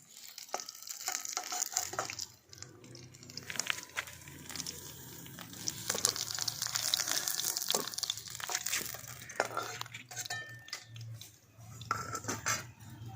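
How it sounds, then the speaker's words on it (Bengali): Fish fries in hot oil in a pan with a steady sizzle, while metal utensils clink and scrape as the pieces are turned and lifted out. There is no talking. "মাছগুলো লাল লাল করে ভেজে নিয়েছি, এরপর মাছগুলোকে তুলে নিচ্ছি।"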